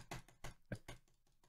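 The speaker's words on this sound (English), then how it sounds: "I'm gonna click it really loud" Loud computer mouse clicks, five or six sharp, close, evenly spaced clicks heard alone in a quiet room.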